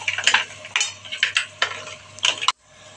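Mussels tipped into a pan with cooking wine for a tomato mussel pasta, giving a run of clattering shell knocks and stirring scrapes over a faint sizzle, ending in one sharp clack before near-quiet.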